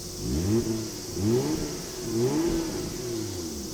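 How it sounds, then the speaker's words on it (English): A 1994 Toyota Soarer 2.5GT-T twin-turbo engine revving up and down several times in rising and falling sweeps, close and fairly loud over a steady idle rumble. "Just give it a little rev to show you how that works."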